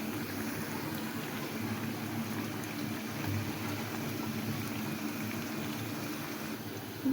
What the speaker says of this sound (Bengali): এখন আমি ভেজে নিচ্ছি পেঁয়াজু যে ব্যাটারটা আমি বানিয়ে রেখেছিলাম ওটা দিয়ে এখন আমি পেঁয়াজু ভেজে নিচ্ছি